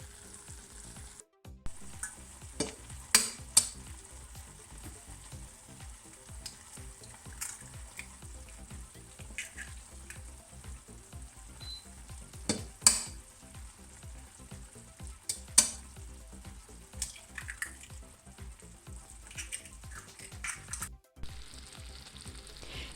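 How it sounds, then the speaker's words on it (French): Eggs fry on top of tchoutchouka in a pan, a continuous close sizzle and crackle with occasional sharper pops and scrapes, heard alone without any talking. "je vais casser mes œufs comme des œufs sur le plat"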